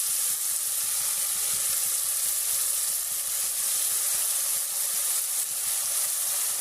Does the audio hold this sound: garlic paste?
yes